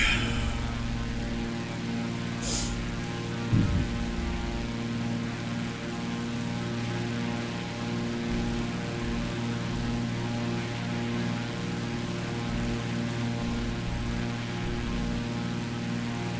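A simulated Morane-Saulnier MS733 airplane engine in Microsoft Flight Simulator 2020 drones at a steady, even pitch with a buzzing propeller tone throughout, heard alone with one brief click partway through.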